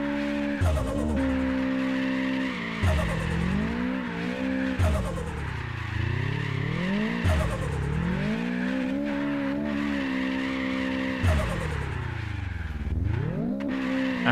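A car in the racing game APEX POINT drifts through turns, its engine rising and falling in pitch with repeated long tire squeals, loud and continuous without talk.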